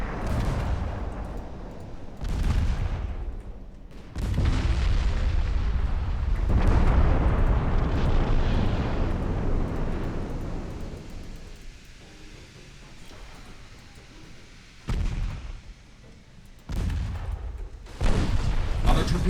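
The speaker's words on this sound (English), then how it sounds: "Torpedo hit." A torpedo hit on a battleship in the naval warfare game Ultimate Admiral Dreadnoughts: heavy booming explosions and a long rumbling roar, with sudden bursts, under someone talking.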